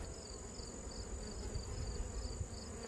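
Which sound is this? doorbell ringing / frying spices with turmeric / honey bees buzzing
honey bees buzzing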